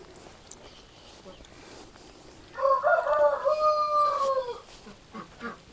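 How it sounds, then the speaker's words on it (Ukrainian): A rooster crows once at moderate distance, a single drawn-out call rising and falling over quiet outdoor background. "я відійшла і заспівав півень"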